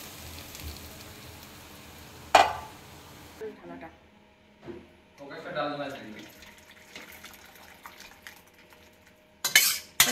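Kitchen sounds of lentils dropped into a hot pan of spices and dried chillies with a sharp clatter, then scraping and stirring with a utensil while someone talks.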